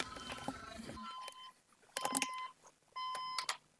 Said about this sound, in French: Oh non, mon réveil qui s'est déclenché.